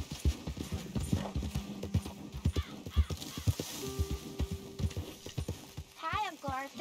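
Hooves of a horse in the Western video game Red Dead Redemption clip-clop in a steady rhythm under conversation, with a brief whinny near the end.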